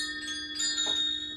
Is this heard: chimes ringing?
yes